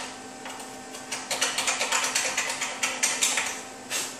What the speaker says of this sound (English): I'll take this flathead screwdriver and just clean the hole out.